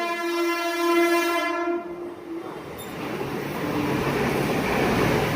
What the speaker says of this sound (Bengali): ট্রেন যাচ্ছে হাওড়া